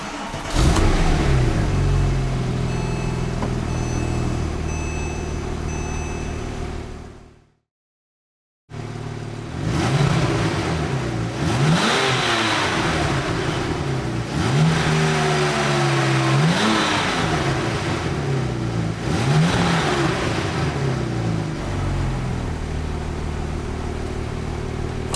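A 2008 Porsche 911 Turbo 997.1 engine idles loudly, cuts to silence, then starts again and is revved repeatedly, the pitch rising and falling in several distinct blips over a steady idle, close and clear.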